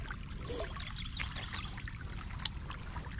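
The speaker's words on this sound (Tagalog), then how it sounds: "Mabilis lang naman padaanan ng tubig to." Water runs from a hose onto calamansi plants in a garden, a steady, soft trickling and pouring stream with small splashes, continuous and fairly quiet.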